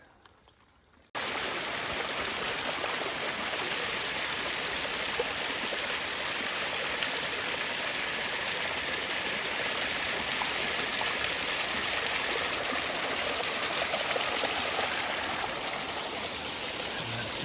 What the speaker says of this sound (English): Stopped for water at this cute little spring